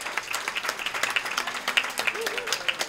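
An audience at a community anniversary celebration claps steadily, a moderately loud room of scattered hand claps with faint voices mixed in.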